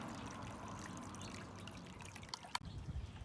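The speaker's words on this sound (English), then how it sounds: "if you've been wondering what that waterfall sound is in the videos" A garden water feature in an urban berry garden trickles like a small waterfall, a soft, steady outdoor wash of running water with one sharp click near the end.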